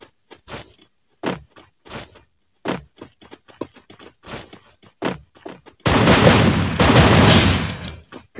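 Gunfire in the Free Fire shooter game: scattered sharp shots cracking at intervals, then a loud dense burst of sustained firing near the end.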